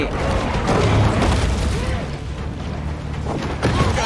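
An explosion in a shark video game booms over continuous game noise, a heavy burst followed by mechanical rumbling while players talk throughout.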